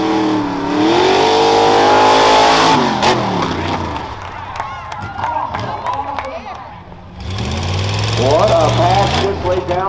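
Off-road rough trucks race at the Morrow County Fair, engines revving loud and close with rising and falling pitch, easing off midway before roaring back, with crowd noise and a commentator talking over them.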